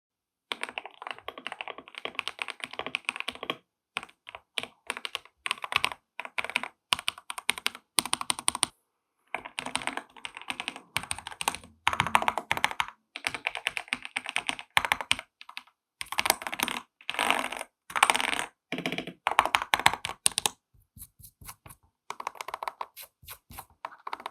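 Steady typing on a wireless MCHOSE X75 mechanical keyboard, dense bursts of clacky keystrokes with brief pauses, close and clear, no voices.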